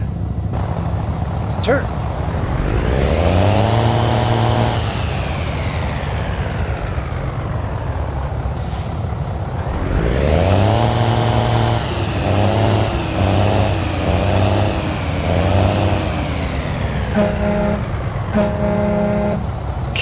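An old truck from a truck collection cranks, starts and runs, its engine rising in two loud surges with revving, followed by short horn-like toots near the end, with a brief voice speaking over it.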